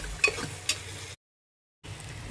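Khichuri with chopped onion is stirred in a cooking pot, giving a couple of faint, short scrapes over a low background hiss. A brief silent gap falls in the middle.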